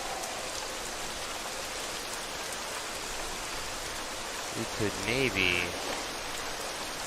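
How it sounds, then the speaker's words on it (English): Steady rain hiss pours across the whole scene in the dinosaur survival game The Isle at night, a constant wash of falling water with a voice speaking briefly over it near the end. "Of course it's raining"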